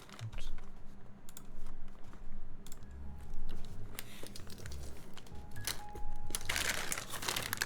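Rapid continuous typing on a Cyberboard R2 mechanical keyboard fitted with tactile switches, giving dense, close clacking keystrokes in an uneven rhythm with no talk over it.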